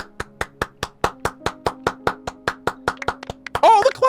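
Applause in Genshin Impact, heard as a rapid, even series of about eighteen sharp claps, fairly close, ending in a brief burst of voices or crowd noise.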